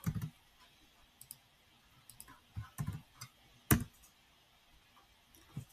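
A computer mouse clicks a few times on a web page being set up as a meal planner, soft, near, isolated clicks spread across a quiet stretch.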